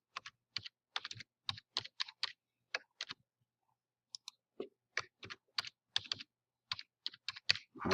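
Password being typed on a computer keyboard: irregular bursts of crisp key clicks in quick clusters with brief pauses, close and clear, no talking.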